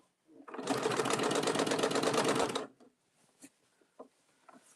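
A sewing machine stitches through several layers of a tote bag handle in one steady, fast run of about two seconds, then stops, followed by a few soft clicks and handling taps.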